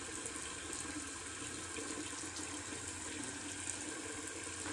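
Water runs steadily from a tap onto an alum block at a wet-shaving sink, a constant soft hiss and splash lasting the whole stretch with no voices.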